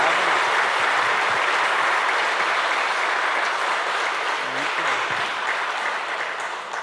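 Sustained applause from a crowd for a speaker at a church lecture fills the whole clip, steady clapping that slowly fades toward the end, with a brief spoken word in Portuguese mixed in.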